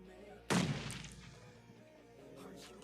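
A single loud gunshot-like blast from PUBG Mobile gameplay rings out and decays, followed by faint distant pops and low background rumble.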